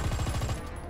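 Rapid machine-gun fire rattles at the player's vehicle in the War Thunder video game, a fast burst of about eight close, punchy shots lasting under a second.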